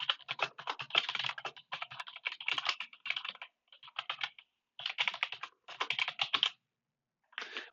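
Typing a query on a computer keyboard, quick bursts of crisp clicking keystrokes in short runs with brief pauses between, close and alone with no talk.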